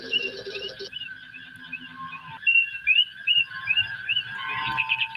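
Bridge of the Enterprise in the Star Trek 25th Anniversary computer game, a busy mix of electronic beeps, warbling chirps and sustained tones, fairly loud and continuous with no speech.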